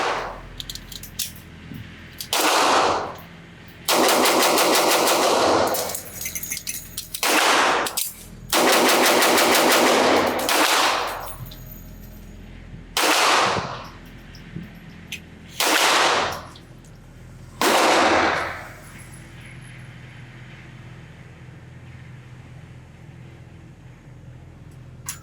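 A Colt Double Eagle 10mm pistol fired rapidly at a range, in several loud bursts of quick shots separated by short pauses, with quieter gaps between strings.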